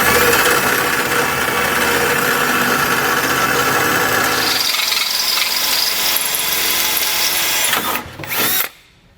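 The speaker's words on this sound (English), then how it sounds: "we're going to drill all the way through that flange until we can come out the other side" A power drill bores through the steel frame flange of a 2020 Chevrolet Equinox during a Blue Ox base plate install, grinding loudly and steadily for several seconds, easing off, then cutting out after a final short whir.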